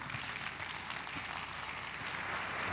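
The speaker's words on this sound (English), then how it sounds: "let's give these volunteers a nice round of applause" Audience applause for volunteers who have joined a mathemagician on stage at a live show, a steady wash of distant clapping that holds evenly throughout.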